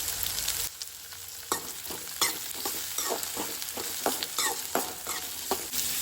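Onion, garlic cloves and split green chilies fry in a pan for a crab masala, a steady hiss broken by repeated scraping stirs of a spoon against the pan, close and without talk.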